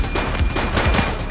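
A shootout in The Precinct, a police game, with a quick run of loud, close gunshots cracking in uneven succession amid other noise.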